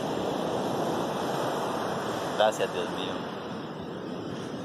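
Surf rolling onto the beach at Santa Marta, a steady broadband wash with wind noise over the microphone, while a few people speak briefly partway through.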